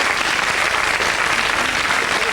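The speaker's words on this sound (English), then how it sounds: "give him a big round of applause for that" Studio audience applauding on a 1980s British TV game show, a dense, steady wash of clapping that stays loud and even for the whole stretch with no voices over it.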